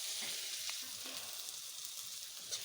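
Onions frying in a pan with salt and chilli, a faint continuous sizzle with a few light stirring touches, no voices.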